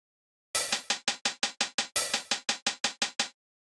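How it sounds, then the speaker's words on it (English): Synthwave drum pattern in an 80s style, with an open hi-hat on the first downbeat: a steady run of crisp, bright hi-hat hits in two even phrases, each opening with a longer, washier hit, loud and alone with no talk. "Another popular hi-hat pattern for synthwave, and also a lot of 80s tracks as well, is to have the open hi-hat on the first downbeat."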